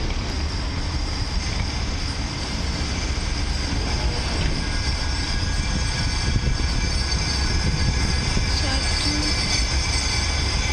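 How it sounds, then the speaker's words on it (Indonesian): A street tram rumbles past steadily on rails in the road in Manchester, a broad, continuous roar and faint metallic squeal, fairly close, with no clear talk. "And that one is tram ya, kayak kereta, cuma jalan di tengah jalan umum."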